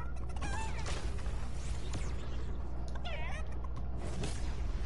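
A chicken in the Fortnite video game clucks and squawks in short warbling bursts over a constant loud hum of in-game background noise.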